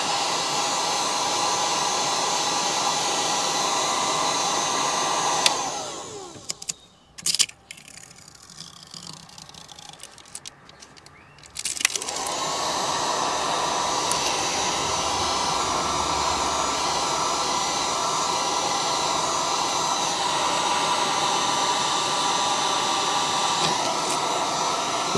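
A heat gun on a low setting blows with a steady, loud whoosh while rear window tint is stripped from a Volvo XC90, cutting out briefly near the start amid rustling handling noises, then resuming as a constant drone.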